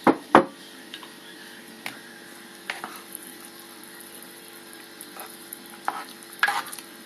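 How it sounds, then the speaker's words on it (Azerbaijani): Cabbage being stirred in a pot for solyanka: a couple of sharp knocks at the start, then scattered soft scrapes and clacks of the spoon over a quiet simmering background. "Ardıcı kələmi qarışdırıram."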